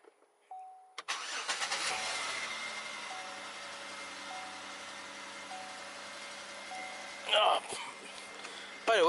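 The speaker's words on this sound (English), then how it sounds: "I'm gonna go ahead and start the car" A Chevrolet Impala engine cranks and catches, then settles into a steady idle, with a brief louder rev near the end.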